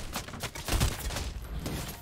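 Rapid gunfire from the Fortnite video game, with dense bursts of shots firing in quick succession. The shots sound close and fairly loud, and the firing keeps up through the whole stretch with no voices.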